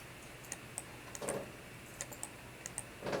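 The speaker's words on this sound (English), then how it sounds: "So if I hit 6 on the keyboard" Computer keyboard keys are pressed in a quiet room, giving about a dozen light, sharp clicks in an uneven rhythm, some in quick pairs, with no voices.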